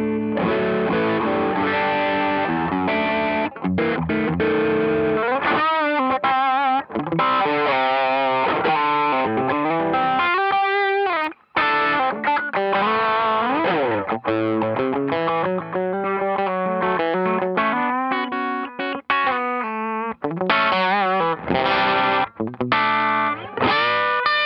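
Electric guitar through a Klon KTR overdrive set on a clean amp, with sustained chords and melodic runs played continuously, loud and close, and mild grit throughout with no talking.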